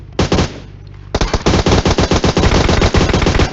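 Loud, close automatic gunfire in a shooting video game: a short burst, a brief pause, then a long rapid stream of shots.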